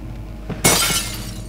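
A glass case shatters in the video game Amnesia: The Dark Descent, one sudden crash with scattered tinkling that trails off over about a second.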